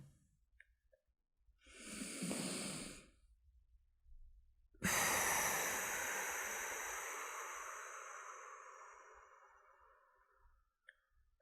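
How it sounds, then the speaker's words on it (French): A slow, deep breath in and out during a calm relaxation exercise: a soft airy inhale, a pause, then a long hissing exhale that fades gradually, close and alone in a quiet room. "prendre une grande respiration"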